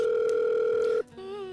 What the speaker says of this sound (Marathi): मी त्यांना जरा फोन करते